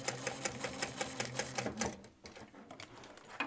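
A sewing machine bastes fabric for a small waistpack, a rapid rhythmic run of needle clatter close up that halts partway, then resumes in short bursts.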